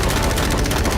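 Rapid automatic gunfire aimed at a boat rattles in a loud, continuous burst of closely spaced shots with no pauses, dense and close throughout.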